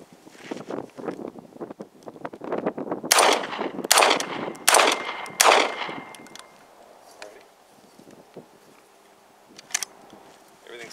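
Several loud gunshots from an ATI Omni Maxx Hybrid AR-410 shotgun, about four sharp blasts in quick succession with ringing tails, preceded by clatter and followed by quieter handling noise and wind outdoors.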